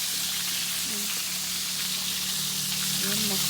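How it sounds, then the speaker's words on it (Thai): Fish coated in turmeric powder frying in hot oil gives a dense, continuous sizzle and crackle at close range, steady throughout, with faint voices murmuring underneath. "เขาจะทอดปลากับขมิ้นนะปลาทอด"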